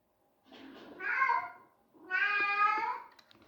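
A house cat meows twice, close and fairly loud: a short call, a pause of about half a second, then a longer drawn-out meow, with quiet room sound between.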